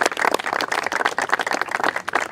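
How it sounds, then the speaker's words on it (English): Lively clapping from a gathered audience at a political event, dense and continuous with uneven bursts, fairly loud and close throughout. "Let's give them a round of applause for what they"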